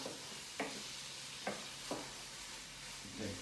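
Ground chicken cooking in a Power XL appliance, a soft steady sizzle broken by a few sharp scraping stir knocks at irregular intervals, quiet and close with no voices.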